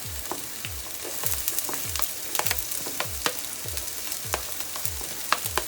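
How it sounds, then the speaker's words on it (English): Scallions and garlic, added after onion, sear in a hot pan with a steady, bright sizzle and crackle, punctuated by stirring and small pops, close and continuous with no speech. "I'm gonna go and sear it a little bit."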